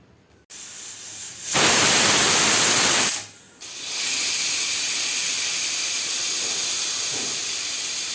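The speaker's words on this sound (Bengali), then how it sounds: "প্রেশারে দিয়ে দিয়ে সেদ্ধ হওয়ার জন্য এবার সিটি দেবো" A pressure cooker boiling chickpeas for ghugni lets off a loud hissing steam whistle for a couple of seconds, then breaks into a longer, steady rush of venting steam close by.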